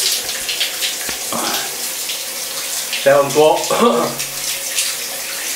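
Shower running steadily with a broad hiss of spraying water, while someone talks over it in Finnish in a short stretch of speech.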